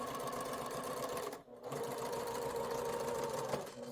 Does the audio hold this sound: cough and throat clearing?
no